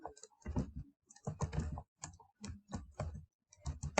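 Someone types on a computer keyboard while writing HTML code, tapping short, quiet bursts of keystrokes with brief pauses between them.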